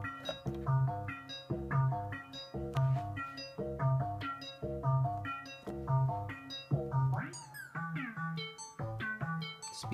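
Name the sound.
Buchla 200e modular synthesizer, 291e controlled by slew CV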